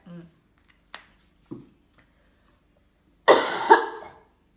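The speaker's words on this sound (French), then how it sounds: "Pour une fois que mon son est bon, c'est là que je tousse." A few faint clicks and small throat sounds, then one loud cough close to the mic near the end.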